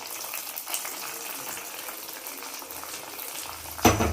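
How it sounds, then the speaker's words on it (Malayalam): Hot tempering poured into an Alappuzha-style Kerala curry: a low simmering sizzle runs steadily, then a sudden loud burst of sizzling near the end as the oil hits the pot. "ഇനി താളിച്ചത് നമുക്ക് അത് ഒഴിച്ചു കൊടുക്കാം."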